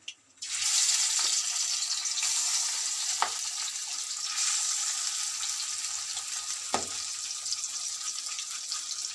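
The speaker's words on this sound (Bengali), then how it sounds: "বাকি মাছগুলো ভেজে নেব" Fish pieces frying in hot oil make a loud, continuous hiss that starts abruptly and holds steady for several seconds, with a few faint clicks of a utensil, close by.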